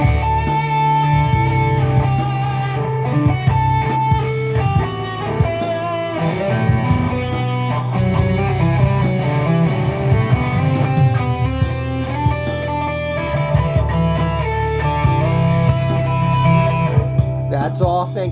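Distorted electric guitar plays a flowing rock-metal lick of arpeggiated notes in the Aeolian mode over a sustained low backing, loud and continuous for the whole stretch.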